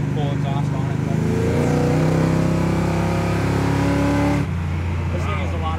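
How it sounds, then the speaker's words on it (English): A 1971 Camaro engine and exhaust drone steadily from inside the cab while driving, a low humming tone that climbs gradually under acceleration, with someone talking over it before the pitch drops as the gear changes. "It won't be as loud here in the cab as far as that exhaust sound when we get that new full exhaust on it."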